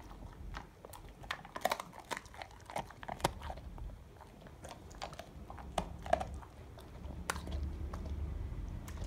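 A dog chews a crunchy stick, giving irregular sharp crunches and bites, close up and fairly quiet, with a low steady background hum.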